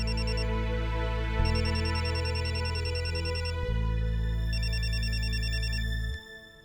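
A telephone ringtone sounds for an incoming call, a loud electronic melody of repeating bright tones over a steady low drone, playing continuously for several seconds before cutting off.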